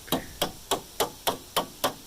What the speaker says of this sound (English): sharpen up that edge once again with your hammer